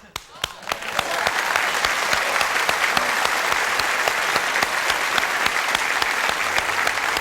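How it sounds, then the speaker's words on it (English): Studio audience applause on a late-night talk show, rising after a few early claps into a steady, dense roar of clapping that holds loud and continuous to the end. "Why are you applauding?"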